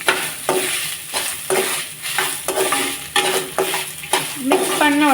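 Grated coconut and tamarind are stirred in a hot pan with a spatula, producing repeated rhythmic scraping strokes over a light sizzle, close and clear, with a brief clink near the end.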